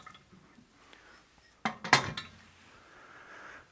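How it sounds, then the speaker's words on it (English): A metal pressure pot used for resin casting is moved aside, giving a short burst of clanks and clinks close by against an otherwise quiet room. "move our pressure pot out of the way"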